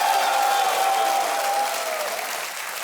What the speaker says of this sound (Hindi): एक बार तालियों के साथ इनका फिर अभिनंदन हो जाए।